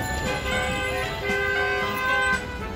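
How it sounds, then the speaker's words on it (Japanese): Car horns toot repeatedly amid dense street traffic in Dhaka, Bangladesh, overlapping honks standing out over a constant roar of engines and crowd noise. "出し惜しみのないクラクションが、バングラの街中で響き渡ります。"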